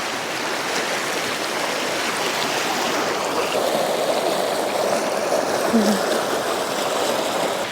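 Water rushing steadily along a stream, a continuous close hiss and babble that holds an even level throughout.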